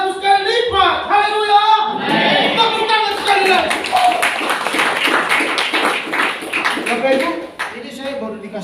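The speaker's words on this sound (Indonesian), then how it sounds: "Tepuk tangan sekali lagi." A church congregation claps and applauds loudly at a worship service, a steady dense patter of hands that runs through the whole stretch, with singing voices and talk mixed in over it.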